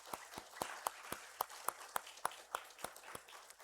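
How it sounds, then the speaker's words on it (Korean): A church congregation at a Sunday morning worship service gives sparse, slow applause, a few distinct claps in a rough steady rhythm, quiet and somewhat distant in a reverberant room. "우리 위로와 격려의 박수 한번 하겠습니다"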